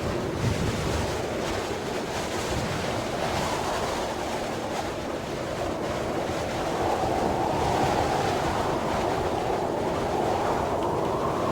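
Wind rushes through the video game Kholat, a loud, continuous roar that swells and subsides without a break.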